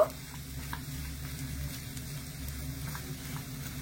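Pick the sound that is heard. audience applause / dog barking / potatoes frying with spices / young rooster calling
potatoes frying with spices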